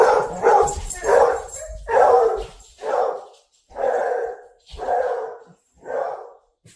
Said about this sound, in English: So just in case you're curious, he's a beagle.